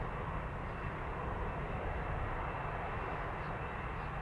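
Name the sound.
Boeing 787 Dreamliner jet departing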